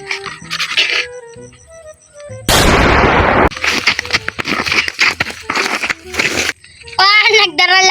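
A gun is fired to start a race for disabled participants, a single loud, abrupt blast amid excited chatter and children's voices, with shouting continuing afterward.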